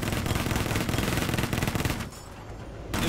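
Rapid automatic gunfire in Battlefield 4 rattles loudly in sustained bursts, close and dense, then cuts out briefly before resuming.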